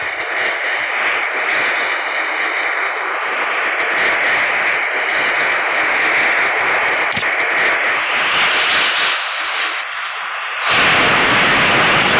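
A broad, steady aircraft engine roar fills the scene as a plane comes in to land in a modded video game, loud and continuous, swelling suddenly near the end.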